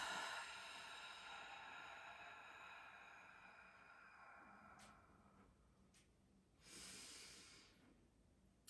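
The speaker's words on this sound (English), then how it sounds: "go back to that deep breath in through the nose." A person drawing a slow, deep breath in through the nose during yoga breathing practice, a soft airy hiss that gradually fades, followed by a couple of brief sniffs, faint and close.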